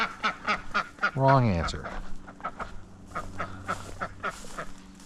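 A duck quacks on a farm: one loud, harsh, drawn-out quack cuts through nearby talking, which continues around it.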